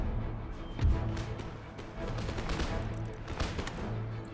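Musket volleys from line infantry in an Empire: Total War battle rumble at a distance, with scattered overlapping shots and dull booms over a continuous battlefield din.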